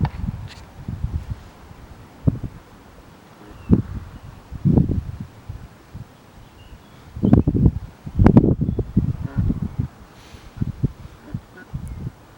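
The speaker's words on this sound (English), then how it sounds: "Oh, now the wind's blowing." Wind blows outdoors in uneven gusts, giving low buffeting rumbles and rustling that swell and fade irregularly against a quiet background.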